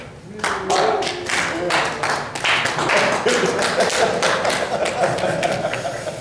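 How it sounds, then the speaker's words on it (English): A small group claps in a brief burst of applause, quick uneven hand claps running steadily for several seconds. "Round of applause for Eric"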